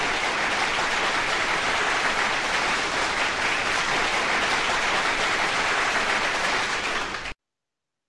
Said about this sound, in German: Und hier ein Applaus für euch alle.